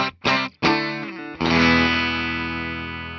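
A 1979 Gibson ES-347 electric guitar with Series 7 pickups through effects: a few quick choppy strums, then a full chord left ringing and slowly fading, loud and alone.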